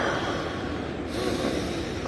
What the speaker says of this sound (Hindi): नाक से पूरक करेंगे, मुंह से एक रिदम करेंगे